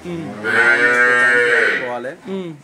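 A single long, loud dairy cow moo close by, drawn out for about two seconds, followed by a short lower grunt.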